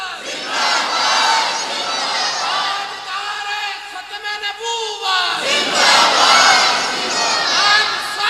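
A large crowd at a religious gathering roars a slogan back in unison, loud massed shouting that dips briefly before surging again.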